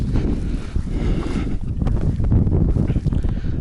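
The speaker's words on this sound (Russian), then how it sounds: "Небольшой ветер здесь" Light wind blows outdoors during a ride on a Koira motorized tow tractor used as a summer all-terrain vehicle, with low, rumbling gusts buffeting the microphone steadily for a few seconds.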